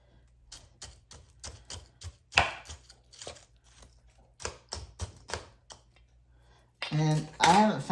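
A knife breaks through partly frozen food in sharp, separate chopping taps, roughly a dozen irregular hits close by, and a voice speaks briefly at the end.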